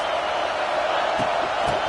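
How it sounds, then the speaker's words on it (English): Stadium crowd in the NCAA 26 college football video game, a steady, loud, broad roar that holds evenly throughout with no break, with a few faint low thumps near the end. "This crowd trying to make life miserable for this offense."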